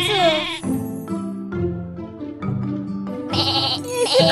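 Cartoon sheep bleat repeatedly in a Caillou counting video game, several loud wavering baas in sequence separated by short gaps, with light game music underneath.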